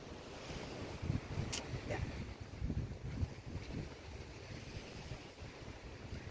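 Gusty outdoor wind buffets the microphone on a beach at night, with a soft wash like surf in the background; no talking, moderately quiet overall.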